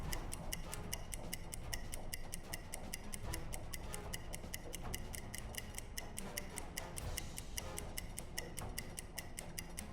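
A stopwatch in the UBOAT submarine video game ticks in a fast, even, continuous rhythm, steady and prominent throughout with no talk over it.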